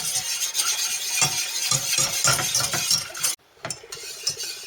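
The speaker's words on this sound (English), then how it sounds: "turn the gas back on a medium heat and I'm going to whisk it" A whisk scraping and clinking steadily in a pan of cream sauce over a medium gas flame, close and busy with rapid metallic stirring, then a brief pause before it resumes.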